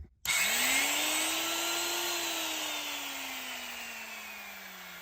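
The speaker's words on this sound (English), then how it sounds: "Routers are always a little bit intimidating because the high RPMs" Wood router spinning up at high RPM as it is tried out on its first plug-in, a loud steady whine that rises quickly after a brief silence, holds, then drifts slightly lower over five seconds with no talking.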